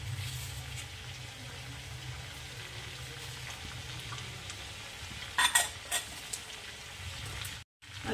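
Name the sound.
stirring mixed vegetables in a pan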